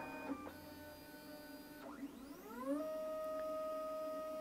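A Lulzbot TAZ6 3D printer fitted with a large MOARstruder extruder probes its bed corners for auto-leveling: close stepper-motor whines sweep up and down in short moves, then settle into a steady, thin electronic tone.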